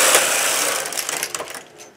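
A knitting machine carriage sweeps back and forth across the needle bed, knitting rows for a poncho with fringe locked on the carriage side, giving a loud, steady mechanical whir that thins into brief clacking bursts at the end.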